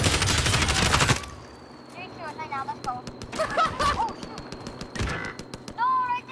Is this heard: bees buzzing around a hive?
no